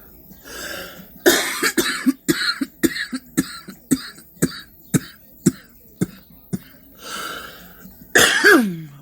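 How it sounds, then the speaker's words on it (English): A long fit of repeated harsh coughs, over a dozen in quick irregular succession, ending in a heavy throat-clearing hack, close and loud. "I make no apologies about coughing."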